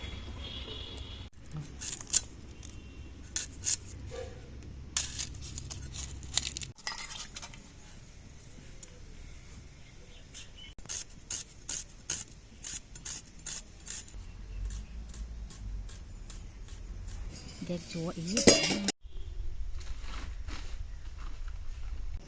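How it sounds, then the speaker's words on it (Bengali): A knife taps rapidly on a cutting board while a medium-sized onion is finely chopped in a home kitchen, a long run of quiet, closely spaced clicks over faint background noise and a soft clatter near the end. "একটা মাঝারি সাইজের পেঁয়াজ নিয়ে নিয়েছি কুচিয়ে কেটে নেব"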